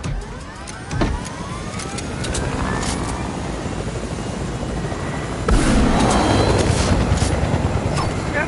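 A vehicle in the video game Fortnite drives with a loud, steady engine roar that swells partway through. The sound stays close and continuous, and no one talks over it.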